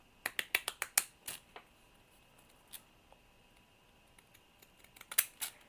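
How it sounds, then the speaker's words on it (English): Small stamp scissors snip around a floral image cut from a magazine page, a quick run of crisp close clicks at first, then scattered faint snips with quiet gaps between. "I am going to cut out my little floral stamp here using my stamp scissors"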